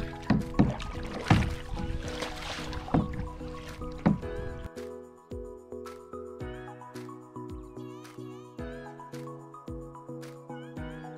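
Oars dip and splash as a rowboat is rowed on water at a campsite near Bangalore, with loud, busy splashing at first that fades into quieter rhythmic strokes under faint tonal background sounds.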